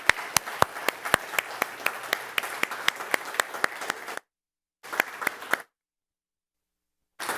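A church congregation applauds to welcome a couple, with a dense run of claps for about four seconds, a short pause, another brief burst, then silence before a final scattering of claps.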